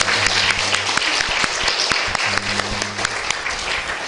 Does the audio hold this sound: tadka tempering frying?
no